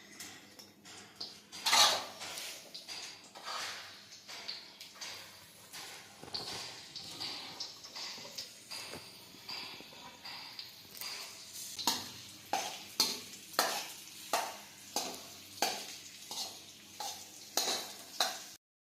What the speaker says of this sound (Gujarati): હવે આપણે ખજૂર સમાર્યો છે તે નાખી દઈશું।